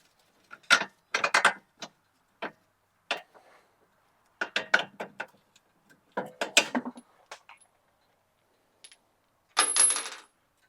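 Bolts being removed from a 2006–2011 Honda Civic wheel hub, sharp metallic clicks and ratcheting bursts in short irregular clusters separated by quiet gaps, close and fairly loud, with no talking.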